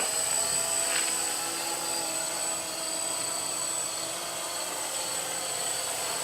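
A 3D X8 six-axis GPS RC quadcopter flies overhead with a steady, high-pitched electric buzz and whine that holds constant throughout, with no voices.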